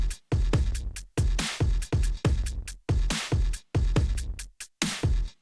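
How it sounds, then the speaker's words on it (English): Hard-hitting electronic drums pound out a punchy pattern, with deep booming kicks and sharp snappy hits in a tight, driving groove. "super punchy and good sounding electronic drums"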